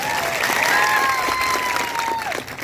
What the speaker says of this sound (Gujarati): બધા માટે એકવાર આપણે જોરદાર તાળીઓ પાડી લઈએ